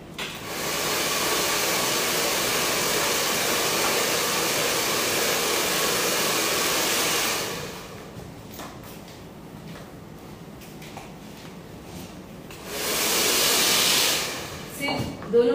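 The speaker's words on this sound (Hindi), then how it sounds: "फास्ट क्रिम्प ब्लो ड्राई करेंगे" A hair dryer blows hair dry with a loud, steady whooshing roar for about seven seconds, cuts off to quieter handling noise, then roars again briefly near the end.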